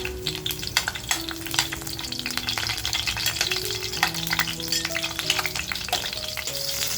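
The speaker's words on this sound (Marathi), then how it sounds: "लसूण जे आपण ठेचून घेतले ती टाकूया. त्याच्यानंतर मिरची कापलेली टाकूया." Crushed garlic and chopped green chilli sizzling in hot oil in a pot, a dense, steady frying crackle with occasional stirring, over background music and no talk.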